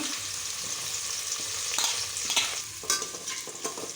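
Two large onions, sliced lengthwise, sauté in a pan for brinji rice with a continuous sizzle, broken by several louder stirring scrapes toward the end, with no talking.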